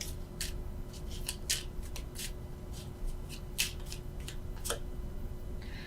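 Tarot cards are shuffled and drawn by hand, with a series of crisp, close riffles and flicks in irregular bursts over a faint steady background hum.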